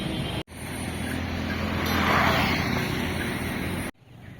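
Morning road traffic rushes past in Dehradun, a steady roar of passing vehicles with wind buffeting the microphone, swelling loudest in the middle as a vehicle goes by close.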